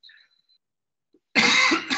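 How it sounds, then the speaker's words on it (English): A lecturer's cough bursts out loud and close, a single harsh burst with a short second push, after a near-silent pause with faint background. "Sorry for the coughing"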